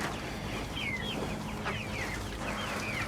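Six-week-old meat chickens cluck and chirp in a short, busy burst of overlapping calls from a farm flock, with constant low background noise underneath.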